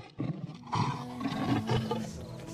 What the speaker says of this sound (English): Maybe add some roaring sound effects or something.